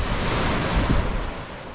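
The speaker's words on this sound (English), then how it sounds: "Shrouded in fog. Hanging on the secret beach." Surf washing onto a fog-shrouded beach, a continuous close roar of breaking waves mixed with wind rumble on the microphone, with no voices.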